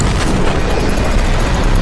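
Loud, dense burst of gunfire and booming in a Skibidi Toilet animation, harsh and continuous for the whole moment with no gaps.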